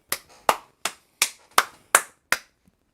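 Hands clap seven times in a steady rhythm during a casual sports-chat livestream. Each clap is sharp and close, with a short decay, the last one trailing off softer, and no talking.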